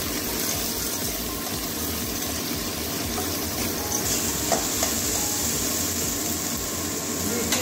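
Small diced potato cubes fry in a pan in a home kitchen, producing a dense, constant loud sizzle close by, with faint stirring movements mixed in.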